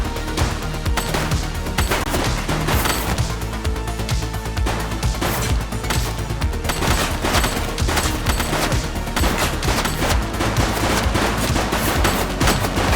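Dense, sustained automatic gunfire rattles without a break in the police video game The Precinct, with heavy bursts and impacts layered close and loud and no talking.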